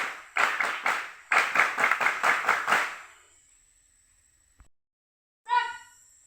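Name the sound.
group doing a single Pramuka scout clap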